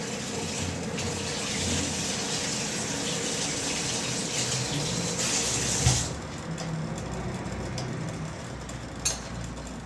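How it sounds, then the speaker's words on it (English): Kitchen tap running steadily into a bowl as it is rinsed out, a continuous close splashing rush of water with a clunk near the end. "and just rinse out this bowl."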